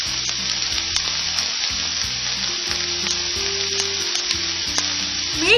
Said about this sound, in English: nothing is better than hot sizzlers like this